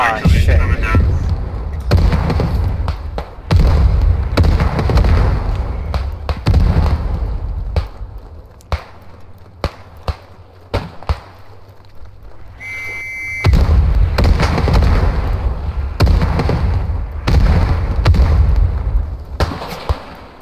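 Booming artillery and explosions rumble through a WW1 battlefield in the game Beyond The Wire, with repeated heavy bursts and loud continuous combat noise, briefly quieter in the middle before the barrage resumes, while players talk over it.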